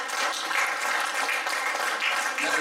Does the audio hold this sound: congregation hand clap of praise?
yes